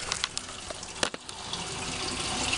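Water running from a tap to rinse out a plastic hamster cage, a steady splashing gush with a few clunks of handling at the start, close up.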